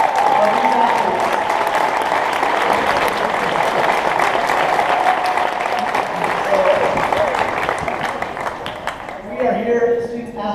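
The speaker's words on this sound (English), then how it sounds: "Let's give these parents a round of applause" An audience at a high school signing-day ceremony gives sustained applause for athletes' parents, loud and steady clapping filling the room before it thins out near the end.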